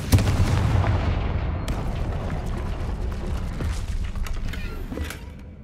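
The Confringo explosion spell in Hogwarts Legacy erupts into a loud, dense roar of blast and crackling debris that fills the whole stretch before easing off at the end, with no voices.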